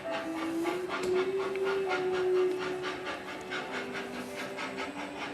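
A train rolls along with a steady rumble and regular clacking of wheels over rail joints, a sustained tonal whine or whistle drifting through the middle, heard continuously from on board without any voices.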